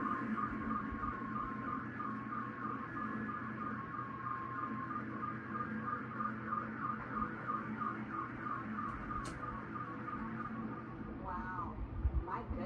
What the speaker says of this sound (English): That's a lot of car alarms going off all at the same time.